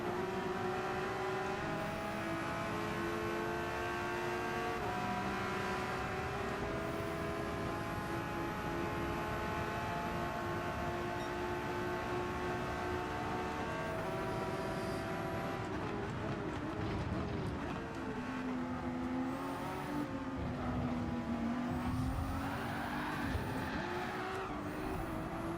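Continuous high-revving engine drone of a Porsche race car in Gran Turismo 7, held steady with rising and falling pitch as gears change, loud and close throughout.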